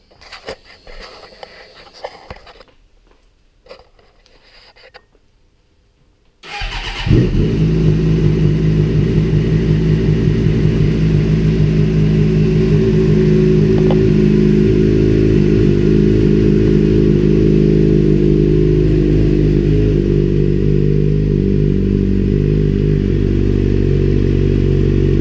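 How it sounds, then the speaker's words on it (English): 2006 Suzuki GSXR 600 K7 motorcycle engine cranking briefly after a quiet lead-in, then catching and settling into a steady, loud, close idle with a constant low hum that continues to the end. "we're just going to start her up to let the oil run around the system."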